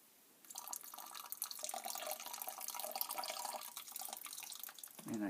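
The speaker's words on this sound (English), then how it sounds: "So pour it slowly, let the juice separate." Grape juice for homemade winemaking, poured slowly from pressed grapes, gives a steady liquid stream and splashing that begins after a short quiet moment and runs continuously at close range, with a small knock near the end.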